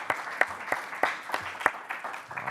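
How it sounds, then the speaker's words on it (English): Scattered applause for a school board at a board of education meeting, a small group clapping in an uneven rhythm, each clap distinct and close in a quiet room. "we give our school board a round of applause for their service"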